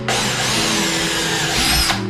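A power drill boring into a wooden kitchen cabinet with a worn bit, a loud, close, steady motor whine grinding through the wood in one short burst.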